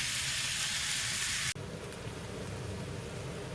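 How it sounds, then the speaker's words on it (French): Knödel dumplings sizzling and frying in a hot pan, a steady loud crackle that abruptly shifts partway through as the pieces are tossed, then keeps frying with a slightly different texture. "Oups, voilà, j'en fais sauter."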